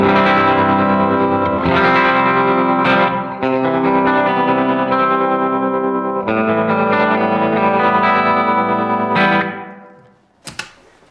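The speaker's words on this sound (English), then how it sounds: "and then after that, there's tremolo" An electric guitar plays held chords through a Line 6 Helix tremolo effect, pulsing so the volume wavers, then fades out with a couple of quiet plucks.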